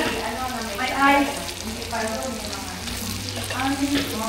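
Chicken frying in a pan, giving a steady close sizzle throughout, while people talk over it.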